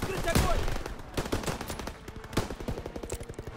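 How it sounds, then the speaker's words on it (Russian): Machine gun fire in the World War II shooter Call of Duty: WWII, heard as rapid, steady bursts of close, loud shots. Other gunfire and battle noise mix in underneath. "Пулемет, открыть огонь!"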